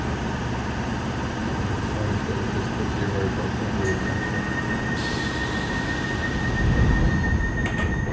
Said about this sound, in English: This is a Piccadilly line service to Rayners Lane.